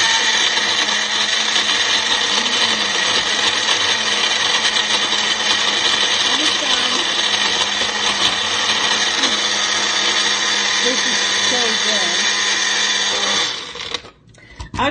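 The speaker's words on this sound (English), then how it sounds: "Pop into the blender, mixing up my shake." A blender whirs loudly and continuously at high speed for a long stretch mixing a protein shake with zucchini, then cuts off abruptly near the end.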